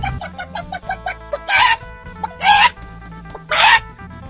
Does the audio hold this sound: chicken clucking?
yes